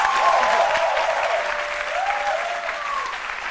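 Studio audience applause on a French television set, a full steady wash of clapping with faint tonal sounds drifting above it, easing slightly toward the end.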